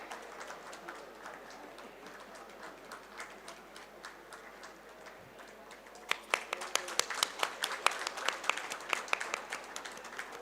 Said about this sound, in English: Let's have a big round of applause to the proud parent.